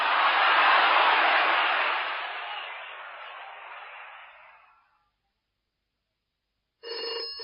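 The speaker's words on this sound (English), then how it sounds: "There's the phone." A telephone ringing loud and close, one long continuous ring that fades out, then a short silence before the next ring begins.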